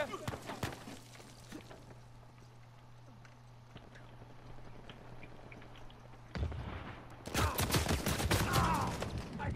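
Gunfire in the Uncharted 4 multiplayer game, a few sharp shots at the start, then a quiet stretch before loud, dense bursts of rapid fire and impacts, with players talking over voice chat throughout.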